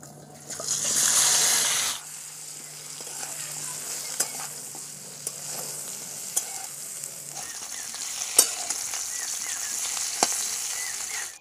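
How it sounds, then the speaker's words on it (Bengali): Moringa drumstick pieces fry in mustard oil in a wok, giving a steady sizzle that is loudest in the first couple of seconds and then settles lower, with scattered clicks and scrapes of stirring throughout. "এবারে সজনে ডাঁটাগুলো ভেজে নেব।"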